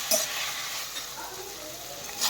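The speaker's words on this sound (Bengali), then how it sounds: "নুনটা ভালো করে চর্বি আর পেঁয়াজের সাথে মিশিয়ে দেব।" Mutton fat and onion stirred in a hot pan with salt, giving a steady close sizzle with faint scraping of the spoon, continuous and alone with no voice.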